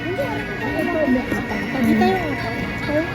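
Horses whinny in short rising and falling calls amid a busy outdoor scene in Salzburg, Austria, near horse-drawn carriages, with people chatting over steady background hum.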